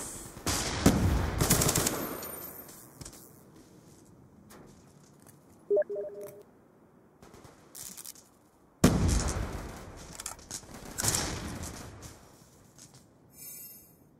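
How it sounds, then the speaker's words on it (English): Sentry gun fire in Call of Duty Black Ops 2: two loud bursts of rapid automatic shots, one near the start and another about two-thirds through, with quieter game sounds and short tonal beeps in between. "Sentry gun ready for deployment."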